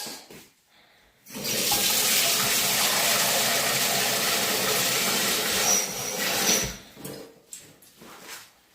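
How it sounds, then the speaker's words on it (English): Water gushes steadily into a pot for about five seconds, a loud continuous pour that starts abruptly and tapers off, followed by faint handling clatter. "I'll start by putting some water at the bottom of the pot."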